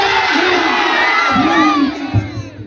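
A large crowd at a Jai Bhim rally roars and chants slogans together, loud and close, a dense mass of shouting voices that swells and then dips briefly near the end.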